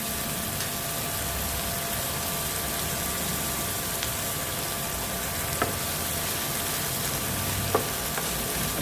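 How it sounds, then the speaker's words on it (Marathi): Onion browning in a pan gives off a steady, close, dense sizzle with an even frying hiss and occasional soft stirring clicks, no voices present. "आता कांदा चांगला लाल करून घेते."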